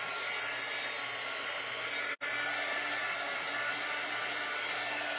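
A hair dryer blows steadily to dry Mod Podge tissue paper craft projects, a constant loud whooshing roar that cuts out for a split second midway and then resumes unchanged.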